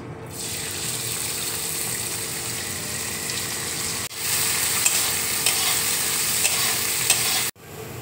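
Onion fries in the oil left from frying paneer, a dense, loud, even sizzle heard close up, stopping abruptly twice before it carries on and growing louder after the first break.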